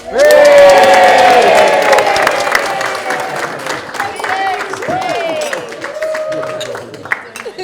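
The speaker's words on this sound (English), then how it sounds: "applaud the brand new Mr. and Mrs. MacArthur" Wedding guests burst into loud cheering and whooping with applause for the newlyweds, a close, boisterous crowd roar that eases into scattered voices and clapping.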